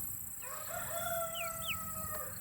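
Four young chickens, still babies, cluck and give thin, rising crowing squeaks, several overlapping calls at moderate distance over a steady hum.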